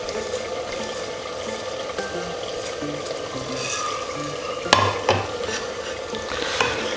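Spice paste being stirred into yogurt for a mutton kunna, a steady wet churning and scraping with faint background hiss and a couple of sharper clinks midway.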